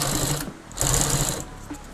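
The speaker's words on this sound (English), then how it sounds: "I want it to start sewing right there." A sewing machine stitches binding onto a Sea Ray boat's front and side canvas enclosure, its close, steady mechanical whir running in two bursts separated by a brief pause.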